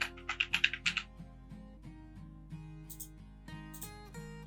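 Typing on a computer keyboard: a quick burst of five or six close, crisp key clicks at the start, then a few sparse taps over a steady background tone with held musical notes.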